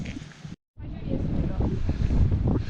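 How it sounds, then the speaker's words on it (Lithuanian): Strong wind blasts across an open uphill viewpoint, roaring into the microphone as a loud, rumbling buffet that drops out briefly near the start and then returns even stronger. "Vėjas labai pučia, nežinau ar girdit"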